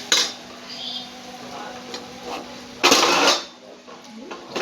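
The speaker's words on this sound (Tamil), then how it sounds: "தேங்காயும் கசகசாவும் வறுத்து எடுத்துக்கலாம்" Coconut and poppy seeds roasting in a lightly oiled pan for okra stir-fry, with a spoon scraping and clinking against the metal in bursts, one loud stretch of stirring midway, and a faint sizzle underneath.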